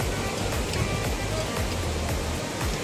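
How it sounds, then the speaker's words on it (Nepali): The Marsyangdi River in Nepal rushes steadily past, a loud, continuous broadband roar of flowing water with no pauses. "यो मर्स्याङ्दी नदी हो"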